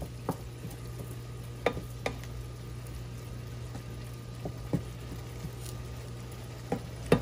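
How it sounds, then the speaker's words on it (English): Chicken fajita mixture with its sauce simmers in a pan on low heat, a steady soft sizzle and bubbling hiss throughout, broken by a few light clinks of a utensil against the pan. "let this simmer on low for a few minutes to let the sauce thicken up"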